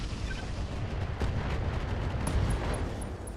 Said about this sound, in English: That's an LRM ammo explosion into a right torso destruction, into not quite a knockdown.